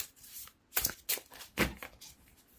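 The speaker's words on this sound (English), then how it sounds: "Sorry, I needed to do a lot of shuffling, but now it's ready." Tarot cards are shuffled by hand in a few quick, close riffling bursts separated by short pauses. The sound is quiet overall, with no speech.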